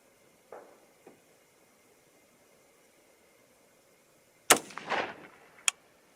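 A short-barrelled rifle in 300 HAM'R fires 125 gr Sierra GameKing and 130 gr Speer Hot Core loads outdoors. A couple of faint distant pops come first, then two sharp, loud shots near the end, one followed by a brief rolling echo.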